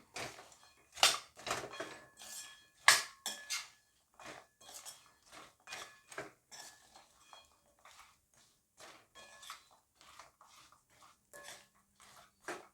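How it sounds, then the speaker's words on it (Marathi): A spoon stirs shankarpali, sweet fried dough snacks for Diwali, through hot sugar syrup in a pan. Close, fairly quiet clinks and scrapes come in an irregular series, louder at first and then softer. "सर्व शंकरपाळ्यांना हा पाक व्यवस्थित लागला पाहिजे त्याच्यामुळे ना हे व्यवस्थित हलवा असं"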